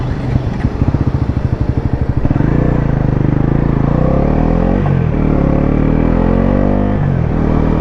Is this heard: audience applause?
no